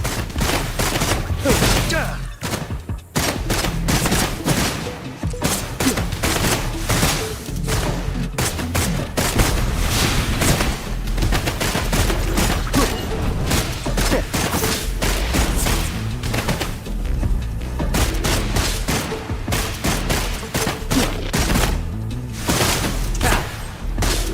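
Dense, continuous gunfire in the video game Wuthering Waves, loud rapid shots and bursts layered with booms and thuds that barely pause over the whole stretch.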